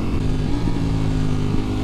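A 2023 Ducati Streetfighter V4S motorcycle accelerates in race mode on a rough road, its steady engine drone rising in pitch with a brief shift-like step midway, heard close and continuous without speech.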